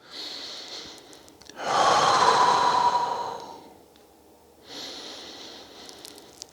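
Deep, slow breaths during a foam roller exercise for the lower back, a long loud exhale in the middle flanked by softer breaths, close and alone.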